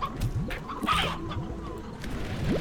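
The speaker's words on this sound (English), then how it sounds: "And another rooster! I heard him spawn." A rooster appears in the Slime Rancher video game and clucks a few times close by over a bed of game ambience, along with faint bird chirps. A voice speaks over it.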